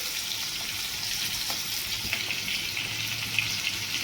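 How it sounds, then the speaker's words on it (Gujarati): Banana pieces, peel still on, frying in hot oil for a banana curry, giving a steady soft sizzle throughout with a few small pops and crackles, close and without talk. "આ આપણે એની છાલ છે ને એ બધી તળાઈ જશે તેલમાં"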